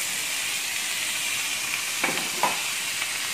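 Boiled beetroot frying in hot oil in a pan for a ginger onion beetroot curry, a soft continuous sizzle with a couple of brief louder crackles near the end.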